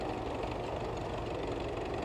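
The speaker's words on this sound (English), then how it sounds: "there he goes on the Fordson tractor" Vintage Fordson tractor engine running at a ploughing match, a low, steady rumble with a rapid knocking pulse, heard from a moderate distance with no voices.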